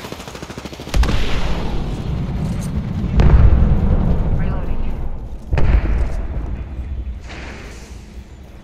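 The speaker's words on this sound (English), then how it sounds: "Throwing thermite grenade." A thermite grenade thrown during an Apex Legends match on Olympus, set among loud booming gunfire with repeated heavy thuds and bursts over about nine seconds, with voices speaking over the action.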